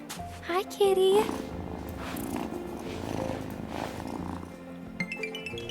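A cat purrs in the farming video game Wylde Flowers, a soft steady rumble lying beneath game music and a brief high greeting from a voice.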